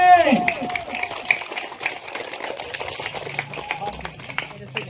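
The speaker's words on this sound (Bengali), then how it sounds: "জোরে একটা হাততালি হবে।" A school sports-day crowd claps for a prize winner, a dense, steady patter of many hands close by that holds for several seconds, with voices mixed in.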